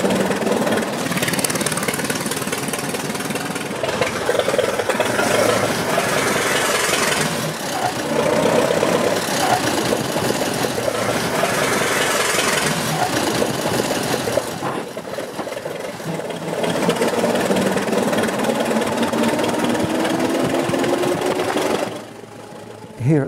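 A loud, rough engine from a 1908 Mors open-cockpit racing car roars steadily with a knocking, raspy tone, revs rising and falling over a long stretch at 60 to 70 mph before cutting out near the end.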